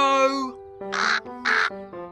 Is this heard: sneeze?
no